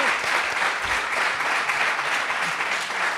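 Steady applause from a crowd, dense clapping that holds at an even level for a few seconds with no voices.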